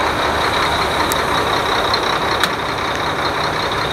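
A large delivery truck idles nearby with a steady engine drone, while a faint repeated high reversing beep sounds twice over the constant rumble.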